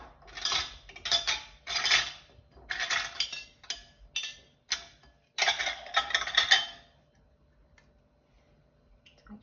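Metal jar lids for courgette chilli jam clatter and clink together as they are picked through: a quick run of sharp, close rattles and taps for about seven seconds, then near silence.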